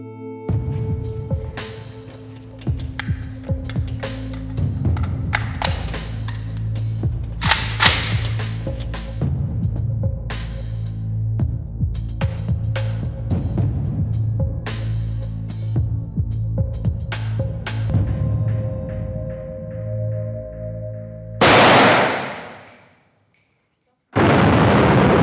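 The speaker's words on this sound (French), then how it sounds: "on a tiré sur cette vitre 3 fois avec" Gunshots hit an armored car's bulletproof glass as a series of sharp, loud cracks spread across the scene over a low steady hum, with speech at times and a final burst of noise before a sudden silence.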